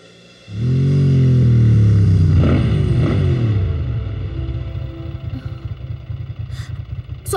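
Motorcycle engine in an animated show starts loudly and drones steadily, its pitch sweeping and slowly falling as it idles down into a low rumble.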